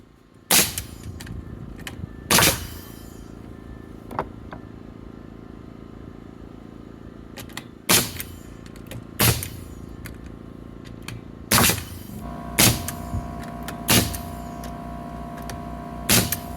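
Pneumatic nail gun firing nails into 2x4 lumber, about ten sharp, loud, close snaps spaced irregularly over a steady compressor-like hum.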